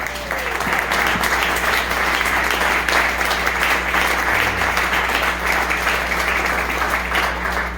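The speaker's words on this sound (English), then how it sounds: "All right, give it up one more time for Jill, everybody." Sustained comedy club audience applause fills the room, steady and loud from start to finish with no voices over it.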